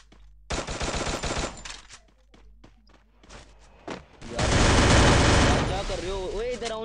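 Automatic gunfire crackles in a multiplayer shooter video game, with a long burst, scattered single shots and thuds, then another loud sustained burst, loud and close.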